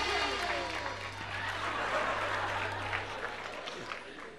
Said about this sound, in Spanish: Un aplauso muy fuerte para el maestro